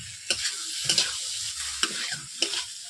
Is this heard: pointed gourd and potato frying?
yes